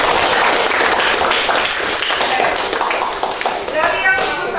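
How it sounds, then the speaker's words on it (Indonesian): Students in a classroom clap together after a lesson on school bullying, a dense, brief round of clapping mixed with shuffling and voices. "Kita tepuk tangan dulu."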